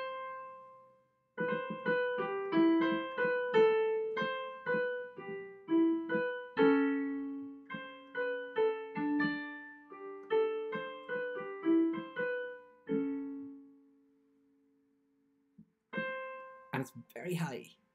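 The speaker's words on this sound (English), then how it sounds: "And here this is Stravinsky's version of a folk tune" Solo bassoon playing a Stravinsky arrangement of a folk tune very high in its range, a strained, reedy melody of many short detached and held notes, alone and fairly close, ending in a long sustained tone before a brief pause.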